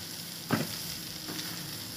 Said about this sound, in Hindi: ये मैंने तवे पे इनको डाल दिया है टिक्कियाँ फ्राई हो रही हैं